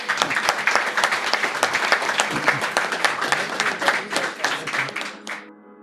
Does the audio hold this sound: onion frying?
no